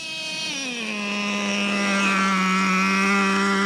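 Traxxas Revo 3.3 nitro RC truck engine revving in second gear, a loud, close, high-pitched buzzing whine that drops slightly in pitch and then holds steady, with no talk.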